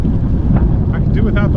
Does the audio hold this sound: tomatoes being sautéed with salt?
no